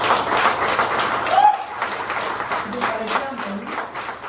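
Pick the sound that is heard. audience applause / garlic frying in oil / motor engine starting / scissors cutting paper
audience applause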